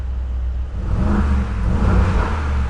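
Close, deep engine roar as the throttle of a Brabus 700 built on a Mercedes G63 is blipped, a rumbling open sport exhaust swelling and settling over a few seconds with no voices.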